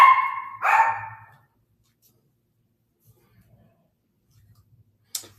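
Dogs give two loud, close barks in quick succession, followed by near silence with faint low thumps and a short sharp sound at the end.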